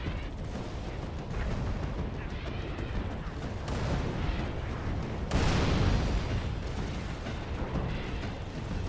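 Crossfire in Halo 3 on the Ark level, with dense, rumbling gunfire and heavy artillery-like blasts rolling continuously, swelling into a louder burst midway, with no talking.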